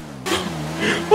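A car engine rises and pulls away after a shouted command, a steady revving roar carrying to the end of the short moment.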